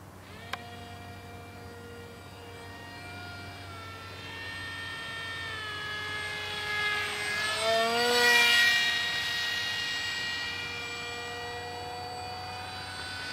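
Steady jet engine roar of a Chinese J-20 fighter in a flight simulator game, with a whining tone that swells and dips in pitch midway, loud and continuous with no talking.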